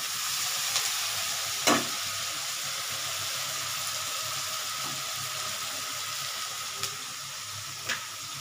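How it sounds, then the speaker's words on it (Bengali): Onions frying in a pan for chicken kosha, a steady hiss of sizzling oil with occasional soft scrapes and clinks of a spoon stirring, continuous and close without talk. "মনে হলো আজকের একটু পেঁয়াজটা ভেজে নিয়ে করি।"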